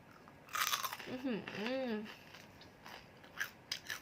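A crispy snack is bitten close up, giving a sharp crunch burst near the start and a few lighter crackles toward the end, with a short voiced sound in between.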